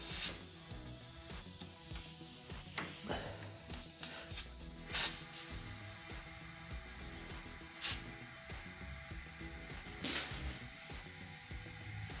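An air compressor runs steadily to pressurize a 2004 Subaru WRX STI for a boost leak test, a faint continuous hiss and drone broken by scattered clicks and knocks.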